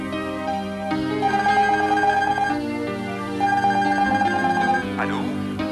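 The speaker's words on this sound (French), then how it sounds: "Téléphone" A telephone rings with a repeated electronic ringtone, sounding in two long bursts of tonal ringing over a musical background, heard alone without talk.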